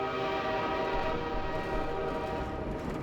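Train ride ambience in the video game Half-Life 2: a dense, steady rumble and rattle of a rail car in motion, with a sustained tonal drone running throughout and no speech.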